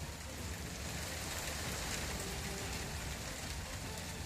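Heavy monsoon rain falling in Mumbai: a steady, dense, close hiss of downpour on surfaces, unbroken and loud throughout with no voices.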